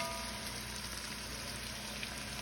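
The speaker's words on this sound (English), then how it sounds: "Listen to that sound, that sizzling sound." Onion frying in a pan for chicken fried steak, a steady, soft, even sizzle with faint crackle, heard alone without voices.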